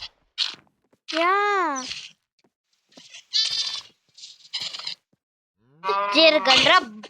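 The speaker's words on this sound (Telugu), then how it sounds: "బర్రెలు" Buffaloes moo and low in several separate calls, loud and close, some long drawn-out bellows spaced apart with short pauses between them, a burst of overlapping calls near the end.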